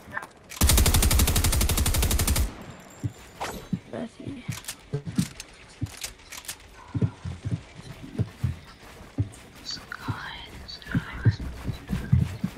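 Rapid automatic gunfire in the Fortnite video game, a dense loud burst lasting about two seconds near the start, followed by quieter scattered game sounds and thumps with talk throughout.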